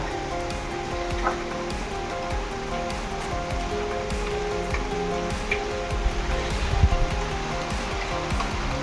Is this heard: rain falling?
yes